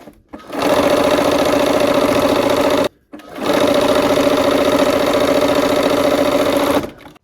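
A sewing machine stitches a quilt block seam in two steady, loud runs of continuous motor whir, separated by a brief pause near the middle, with no talking.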